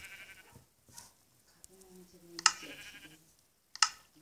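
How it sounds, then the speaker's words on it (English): A faint sheep bleat wavers briefly in a quiet room, along with a few sharp clicks and taps. "It's a sheep."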